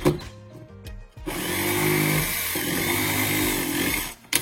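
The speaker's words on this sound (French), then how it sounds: "si dans certains cas, on a besoin de couper une entretoise, hein, comme là, puisqu'on enlève un morceau, avec une scie sabre" A reciprocating saw cuts through a polystyrene formwork block spacer on a crawl-space foundation build, a loud, steady buzzing rasp lasting a few seconds after a brief start, close by with no talk.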